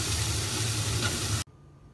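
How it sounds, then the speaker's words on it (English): Minced pork frying in a pan, with a close steady sizzle and crackle that cuts off abruptly near the end, leaving quiet. "Then fry the minced pork."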